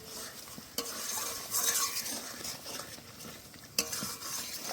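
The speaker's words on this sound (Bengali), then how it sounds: "এবার খুব ভালো করে কষে নেব।" Spiced masala and tomato puree sizzle and fry in a pan while a spatula stirs and scrapes at close range, with occasional sharp clanks of metal against the pan.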